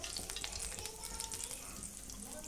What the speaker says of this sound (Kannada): ಇವಾಗ ಒಗ್ಗರಣೆಗೆ ಹಾಕ್ಕೊಳ್ಳೋಣ. 1-2 ಸ್ಪೂನ್ ಎಣ್ಣೆ